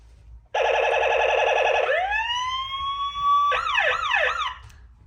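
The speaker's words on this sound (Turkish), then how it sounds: "Bir de kornası mı var bunun? Sireni nereden çalıyor" A toy fire truck's electronic siren wails in a steady two-tone pattern and then settles into a long rising tone. It ends with fast warbling yelps, loud and close.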